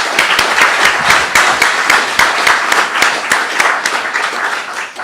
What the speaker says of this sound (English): So can we give them all a round of applause